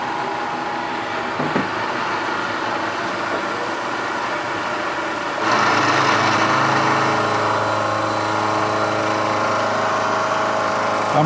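A 1.5-inch four-insert APKT face mill cuts metal at 1400 RPM, giving a steady, close machining roar with a thin whine that grows louder and fuller about halfway through.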